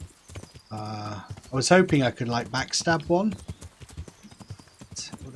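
Horse hooves clip-clop in the Kingdom Come Deliverance video game, a steady run of light, distinct taps under someone talking throughout.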